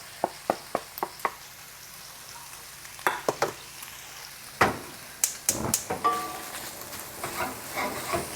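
Shallots added to a pan with braised pork for Taiwanese braised pork over rice, giving sharp clinks and knocks of a utensil at first, then a soft sizzle and stirring that grow busier toward the end, close and fairly quiet.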